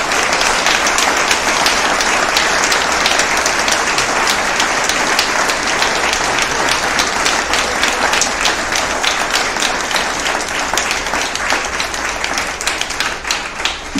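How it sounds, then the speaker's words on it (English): Loud, sustained applause from a large crowd at a working dog center's tenth anniversary event, honoring the staff, a dense, even patter of many hands lasting over ten seconds before easing slightly. "I'd like to give them a round of applause."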